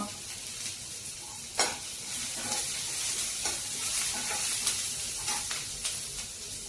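Onions, green chillies and curry leaves frying in hot oil, a steady close sizzle with occasional stirring scrapes and clacks of a spoon against the pan.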